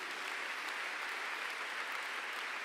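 Brief, steady applause from a church congregation at a revival event, a dense, even hiss of many hands clapping at moderate distance with no voices standing out.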